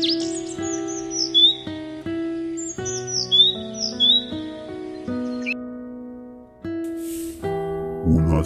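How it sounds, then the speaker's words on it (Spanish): Birds sing in short, bright chirps and whistled calls that come and go over a sustained, tonal musical background, with a voice-like melodic layer running throughout. "Y con el cantar de las aves, expresa una sincera alegría."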